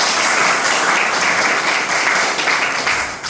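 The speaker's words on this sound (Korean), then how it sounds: "큰 박수 한번 보내주시고" An audience at a climate and energy transition lecture claps loudly, a dense sustained wash of applause that fills the whole stretch before tapering off slightly at the end.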